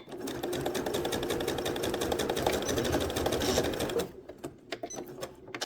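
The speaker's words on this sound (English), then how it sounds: "And we're just going to give it a good back stitch." Sewing machine back stitching to secure lace on a shirt, a fast, even mechanical patter heard up close for about four seconds, followed by a few quieter ticks and handling sounds.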